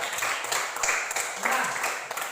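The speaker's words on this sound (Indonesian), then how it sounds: "Berikan tepuk tangan dulu untuk dia." Brief classroom applause for a student, a short, dense patter of clapping hands with a faint voice murmuring underneath, close and moderately loud.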